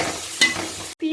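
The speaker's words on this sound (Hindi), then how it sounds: "जिंजर गार्लिक क्रश किया हुआ डालेंगे।" Crushed ginger and garlic hit hot oil in a pan with a brief sizzle and a stirring scrape, followed by a short gap and another burst of frying.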